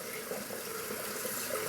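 Tap water runs steadily into a sink for lathering shaving soap, a close, even splashing stream that carries on for the whole stretch without a break.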